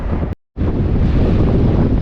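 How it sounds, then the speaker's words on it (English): Heavy coastal wind buffets the microphone at the old mouth of the Brazos River between Quintana and Surfside, a loud, constant low roar broken by a brief moment of silence. "it's awfully windy out here"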